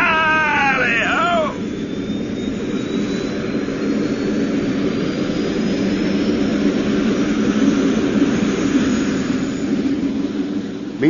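A spacecraft engine ignites and roars into takeoff in a 1990 radio drama, a steady loud jet-like rumble with a rising whine that builds and holds, following a brief high chirping sound at the start.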